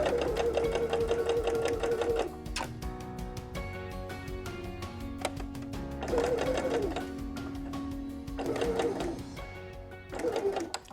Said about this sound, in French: qui vous permet de coudre à 5 mm du bord